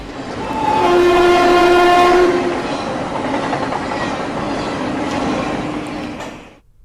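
A passenger train rolls past loudly, its horn sounding a long steady blast near the start. A rumbling rail clatter carries on underneath and continues after the horn ends.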